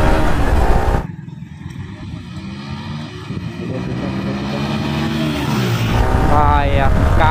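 A Yamaha R15 V4 and a Yamaha FZ motorcycle race each other in a drag race, their engines droning and revving up and down close by under heavy wind buffeting, with voices heard near the end.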